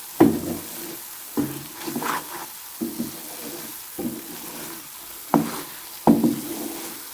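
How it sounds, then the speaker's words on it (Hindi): Milk powder burfi mixture being roasted in a pan over low heat, with a spoon scraping through it in separate strokes spaced a second or so apart and a soft sizzle in between, close and without talk. "अब इसको 5 से 10 मिनट के लिए और इसी तरह से मज़ीद भूनेंगे"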